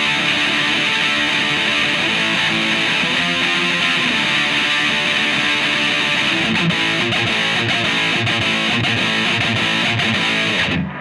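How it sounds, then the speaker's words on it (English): Electric guitar through a Boss DS-1 distortion pedal stacked with a Tube Screamer, giving a thick, noisy, saturated tone, plays continuous riffs loudly, then cuts off abruptly at the end. "I'm gonna kick the Boss DS1 on and show you how you can stack them to get this really noisy, thick distortion."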